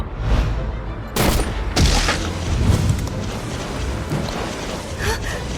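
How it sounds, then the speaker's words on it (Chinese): Machine gun fire aimed at giant hard-shelled crabs swarming ashore in an apocalyptic drama, heard as loud sustained bursts and booms under a dense, chaotic battle roar. "不行，机枪根本打不动。"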